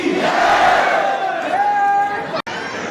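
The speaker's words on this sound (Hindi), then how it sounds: "एक बार पुनः जितनी संख्या है यहाँ पर सभी की आवाज आना चाहिए। बोलिए विश्वकर्मा भगवान की।" At a Vishwakarma celebration in Indore, a large crowd shouts in unison in praise of Lord Vishwakarma. The roar is loud, sustained and continuous, then cuts off briefly near the end.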